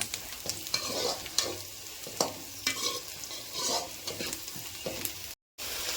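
Onions and drumstick leaves fry in a pan, a steady close sizzle broken by repeated scraping stirs at a loose rhythm, with no voices.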